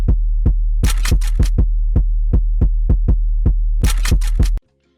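A deep, steady bass drones under a Jersey club beat while sampled gun reload clicks strike in short bursts, sharp ticks jumping over the low pulse before everything cuts out abruptly.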